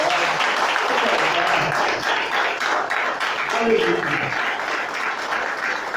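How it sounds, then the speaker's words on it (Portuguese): Congregation applauding during a church sermon, steady clapping across the whole stretch with voices and shouts of praise mixed in over it. "Pode aplaudir."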